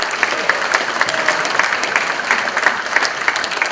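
Audience applause, dense and steady rapid clapping from a crowd, loud and close, lasting the whole stretch with no voices over it.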